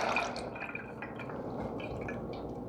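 Canned sour cherries and their juice drain steadily into a colander, giving a continuous soft trickle and patter of liquid with a few faint drips and clinks.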